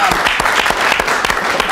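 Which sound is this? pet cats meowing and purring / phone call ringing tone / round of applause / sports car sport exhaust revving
round of applause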